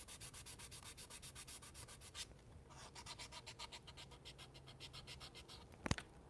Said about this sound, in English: these sanding pads are dope, man.